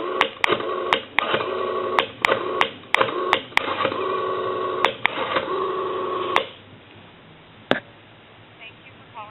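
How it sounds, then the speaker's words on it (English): A Western Electric 5302 rotary telephone dials out, producing a series of sharp, evenly spaced pulse clicks in several bursts over a steady line tone, which then drops to a quieter hiss with a final click. "we know that the telephone is dialing out"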